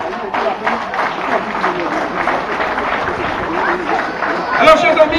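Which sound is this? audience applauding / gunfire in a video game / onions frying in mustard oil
audience applauding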